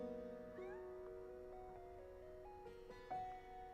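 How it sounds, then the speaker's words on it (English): A cat meows indoors, a few drawn-out rising and falling calls close by over a faint background hum, with no talking. "This cat's annoying me."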